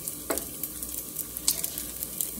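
Food sizzles and crackles in a hot pan during a home morning cooking routine, a close, continuous fry with small pops and occasional scraping stirs.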